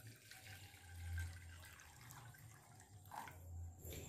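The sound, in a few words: water poured into a pot for making rose syrup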